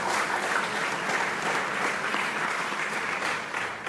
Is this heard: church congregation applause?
yes